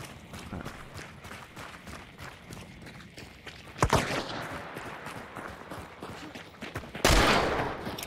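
Gunshots in the shooter Hunt: Showdown: scattered footsteps and movement lead into two loud, sharp rifle cracks a few seconds apart, each followed by a ringing, echoing tail.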